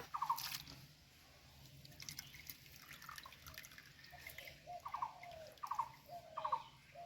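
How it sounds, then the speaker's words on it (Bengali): Sweet corn cobs rinsed by hand in plain water, with soft splashing and scattered drips, fairly faint, while short bird-like chirps sound now and then in the background. "নর্মাল জল দিয়ে এইভাবে ধুয়ে নেব"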